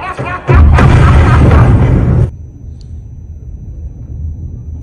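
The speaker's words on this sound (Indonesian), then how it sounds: "tempat sidang itu hancur karena ledakan besar" A big explosion destroys a courtroom in the film Joker: Folie à Deux, a loud booming blast lasting a couple of seconds before fading into a low, lingering rumble.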